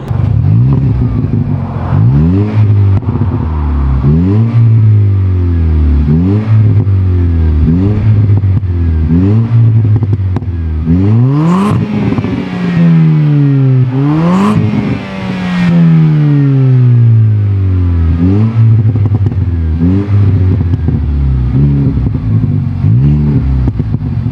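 A Jaguar XE engine revs hard again and again through a loud, throaty aftermarket exhaust, each rise in pitch followed by a rumbling drop, with no talking.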